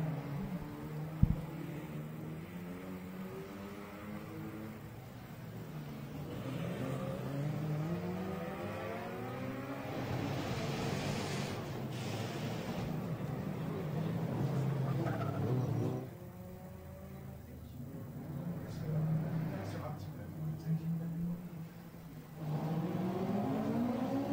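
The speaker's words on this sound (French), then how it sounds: "the AC Cobra and the Lotus, Maverick Lotus 177, are quite close together" An AC Cobra and a Maverick Lotus 177 race on the Circuit des Remparts street circuit, their engines rising and falling in pitch as they pass at moderate distance, with a sustained revving drone and no talk.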